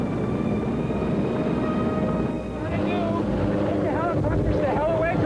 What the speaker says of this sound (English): the helicopters also created a great deal of confusion, noise, and blowing debris